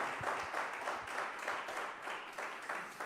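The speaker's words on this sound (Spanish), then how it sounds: "Dar un aplauso al Señor." A church congregation applauds during a Spanish-language worship service, giving steady, fairly quiet group clapping in an even rhythm throughout.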